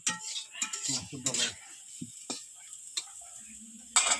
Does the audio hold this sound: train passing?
no